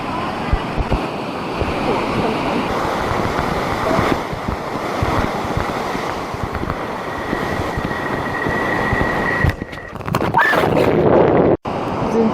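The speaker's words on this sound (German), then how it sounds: "Und hier, wir sind halt so direkt über Wasserfällen und alles." Loud, steady roar of rushing water from a waterfall in the Pantanal and Bonito region of Brazil, a dense broadband wash heard up close, with some handling bumps and a sharp cut near the end.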